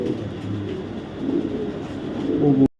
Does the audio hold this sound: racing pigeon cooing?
yes